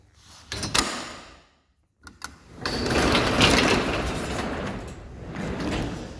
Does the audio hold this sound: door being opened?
yes